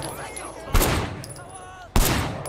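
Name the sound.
gunfire from blind firing in the video game Sleeping Dogs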